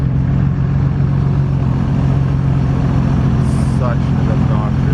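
BMW M3 idling at a large Calgary car show, a loud, steady low rumble with a deep droning tone that holds evenly throughout, close by, with faint higher sounds passing in the background.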